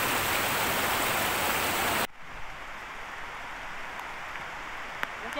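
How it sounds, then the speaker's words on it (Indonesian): Rain falls outdoors on a camping trip on the way to a waterfall. A loud, dense hiss fills the first two seconds, then drops suddenly to a softer, steady patter. "Hujan, guys."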